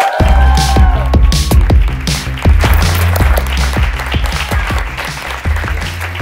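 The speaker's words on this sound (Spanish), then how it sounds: "Quiero que le deis un aplauso muy grande a la Yaya Mari Carmen." A studio audience applauds for Yaya Mari Carmen, loud and close, while sharp tapping hits and thumps punctuate the clapping and a brief tonal swoop sounds at the start.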